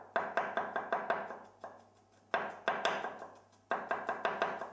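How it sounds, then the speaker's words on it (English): A kitchen knife chops a garlic clove into thin slices on a board, a quick run of sharp, close taps in three bursts separated by short pauses, with no talking. "Then I chop up a clove of garlic into thin slices."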